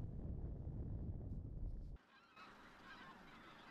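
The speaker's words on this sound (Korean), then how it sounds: "겨울 진객으로 불리는 큰 기러기 역시 천수만의 농경지가 생기면서 새롭게 이곳을 찾는 손님 중에 하나다" Bean geese honking over farmland on reclaimed tidal flats at Cheonsu Bay, heard first as a loud, dense mass of low calls, then as a thinner, more distant flock chorus after a sudden drop in level.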